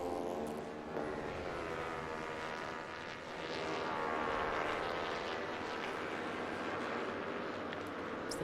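Twin-cylinder Twins Cup race motorcycles roar through the final lap at Barber Motorsports Park, a dense, continuous engine drone with shifting pitch as bikes pass, steady and loud without voices.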